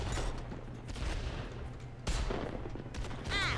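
In Worms W.M.D., mortar shots go off as a pair of muffled, thumping blasts over a steady bed of game noise, with no talking.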